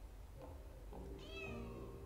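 A cat meows in the video game Inmost, a soft, rising and falling mew heard alone over a low, muffled ambient background, faint and brief.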